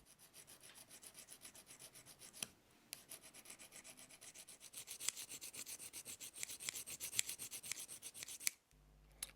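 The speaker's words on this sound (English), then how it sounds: "This is a coarse grade dia sharp mini hone, and I'll use that until all the deep scoring has disappeared." A plane blade from a Lie-Nielsen No 4 is rubbed back and forth on a coarse diamond mini hone in quiet, steady rasping strokes, close and alone, ending with a short clunk.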